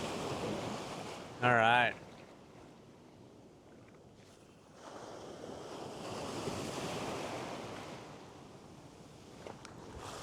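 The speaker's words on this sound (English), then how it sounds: "Got this wave coming up." Ocean surf washes up on the shore in a broad rising roar of a wave coming in, with wind buffeting the microphone and a brief spoken remark before the surge.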